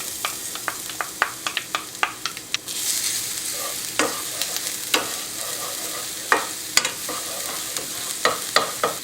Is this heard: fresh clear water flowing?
no